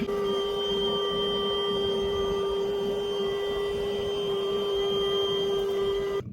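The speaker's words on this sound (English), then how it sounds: "I forgot that Maverick has never liked the air compressor" An air compressor drones steadily while inflating an inflatable raft at a lakeside campsite, a continuous even hum with a strong tonal whine lasting the whole stretch before stopping abruptly.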